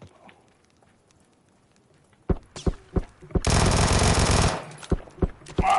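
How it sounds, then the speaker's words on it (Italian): Automatic gunfire in the battle royale game PUBG: several sharp single shots, then a dense, loud sustained burst lasting about a second, followed by more scattered close shots. "Un altro che ti spara."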